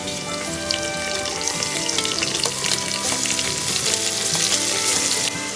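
Onion and tomato sauté in a pan with cumin, curry leaves and chili, giving a loud, continuous crackling sizzle with fine spattering throughout and no talking.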